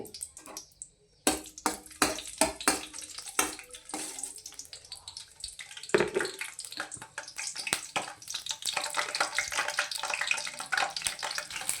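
Green chillies drop into hot oil for a green peas curry, setting off a burst of loud crackling and spitting. It settles into a steady, dense sizzle that continues throughout.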